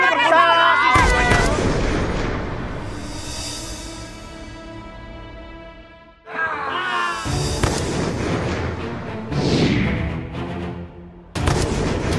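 Booming explosion effects burst out three times, loud and close, amid tonal, voice-like sounds that swell and fade between the blasts.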